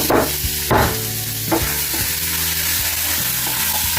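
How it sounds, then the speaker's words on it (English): Steady sizzling and crackling of sausages frying in a saucepan, with a few sharper clinks and stirring noises on top, no voices. "So the sausages are frying in that saucepan."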